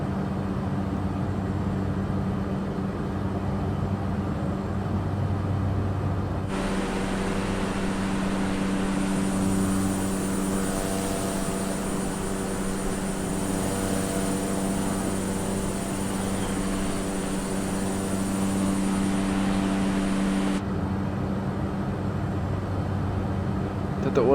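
A Cessna 208B Grand Caravan EX turboprop drones steadily in a flight simulator, its constant low hum swelling louder for a long stretch in the middle before dropping back.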